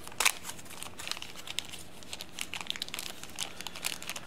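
Close crinkling and tearing of plastic wrap as Star Wars Legion T-47 Airspeeder cards are unwrapped, a sharp rip at the start then a run of irregular crackles and rustles, with no talking.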